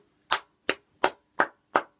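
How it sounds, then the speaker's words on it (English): One person claps alone five times, each clap sharp and close, spaced in a slow, even rhythm with silence between them. "I'm gonna clap for Ralph Rangnick."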